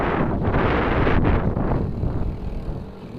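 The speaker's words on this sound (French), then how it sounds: "Il y a du vent aujourd'hui" Heavy wind buffets the microphone in loud, rough gusts that ease slightly toward the end.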